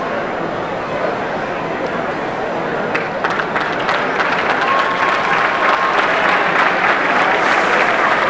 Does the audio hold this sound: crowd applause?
yes